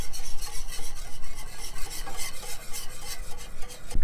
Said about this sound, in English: once you get the grits in, you wanna stir really well with a whisk.